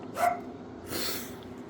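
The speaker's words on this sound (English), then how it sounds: "you can probably hear Spartacus barking again." A dog barks twice, a short sharp yap and then a longer, muffled bark, both somewhat distant, with a steady low hum underneath.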